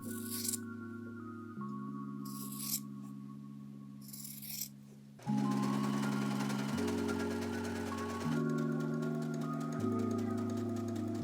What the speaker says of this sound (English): finished the hem with a zigzag